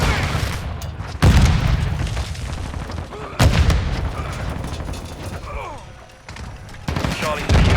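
Grenade blasts in a first-person shooter match on a small map, several sharp booms breaking through constant gunfire and dense battle noise.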